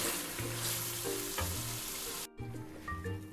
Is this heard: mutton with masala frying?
yes